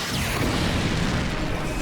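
A missile explosion striking its target in a sci-fi film, heard as a dense, loud, sustained roaring boom with no other sounds.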